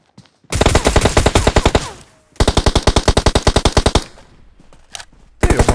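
Rapid automatic fire from the Shredder weapon in a video game, two long loud bursts of evenly spaced shots separated by a short pause, with a few quieter scattered shots after.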